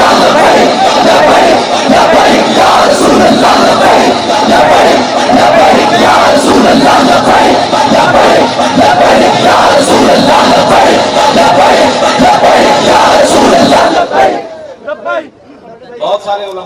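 A large crowd chants the Labbaik slogan in loud, dense unison at a religious gathering, a continuous roaring wall of voices that breaks off abruptly near the end into scattered quieter sounds.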